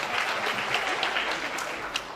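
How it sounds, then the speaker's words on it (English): An audience at a campus event applauds the moderator, a dense, steady wash of many hands clapping close by for about two seconds with no speech. "Please give a big round of applause for our moderator."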